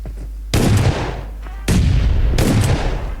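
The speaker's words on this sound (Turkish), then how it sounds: "Lan bombayı yanlış attık." Grenade blasts in the mobile battle royale game PUBG Mobile: three loud, sharp explosions at roughly one-second intervals, each with a booming crack and a decaying rumble, close and dominant.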